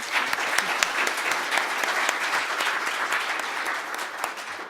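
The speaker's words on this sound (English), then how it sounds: "So big applause for Lisen as well." An audience at a scientific discussion applauds a speaker, with dense, continuous clapping from many hands and a few sharper individual claps standing out, moderately loud and unbroken by talk.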